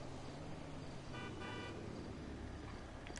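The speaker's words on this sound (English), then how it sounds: "Don't honk at me." Car horn honking in the video game GTA during a deathmatch, a short toot rising briefly over steady road and traffic noise.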